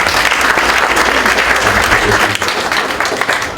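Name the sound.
audience applause at award ceremony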